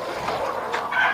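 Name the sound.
hen clucking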